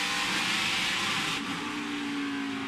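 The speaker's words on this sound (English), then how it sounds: "Listen to this truck get down into the corner here." A NASCAR Craftsman Truck Series truck engine roars loud and steady as it drives down into a corner during a race, with a dense, sustained mechanical drone throughout.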